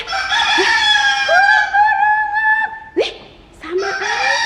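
A rooster crows a long cock-a-doodle-doo, loud and close, with rising and held harmonic calls, followed by a short second call; no talking.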